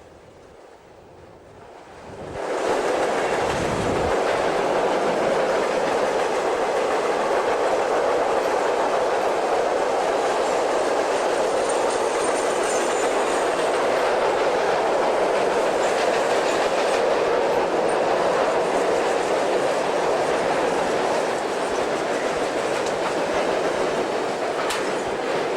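A Conrail freight train rolls past at Oak Harbor: after a quiet opening, a loud, steady roar of wheels and railcars sweeps in and holds unbroken for over twenty seconds.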